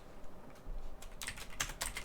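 Typing on a computer keyboard, a quick cluster of clicky keystrokes after a quiet start, close and moderately loud, with no talking.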